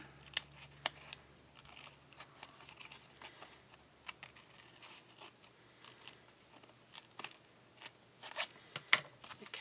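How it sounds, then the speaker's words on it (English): Small snippet scissors snip cardstock die-cut pieces in a series of sharp, close clicks and crisp cuts, irregularly spaced, quiet and alone without any talk. "I'm going to use my scissors to get in there."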